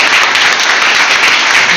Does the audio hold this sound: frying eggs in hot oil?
no